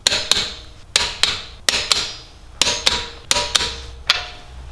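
Sharp hammer blows stake a torqued axle nut on an E9x xDrive BMW front wheel bearing job, about ten close, ringing metallic strikes in uneven pairs and singles.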